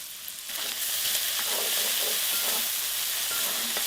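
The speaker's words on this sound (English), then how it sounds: "you're going to add 8 chopped pieces of bacon. Continue to cook your bacon for another 3 minutes" Eight chopped pieces of bacon fry in a pan over medium heat for a Mexican beef stew, a close, loud, steady sizzle and hiss with light stirring scrapes and no voices.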